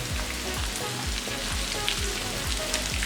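Mutton chops sizzle on a hot tawa in a steady, close frying hiss, with soft rhythmic scraping or ticking underneath and no voices.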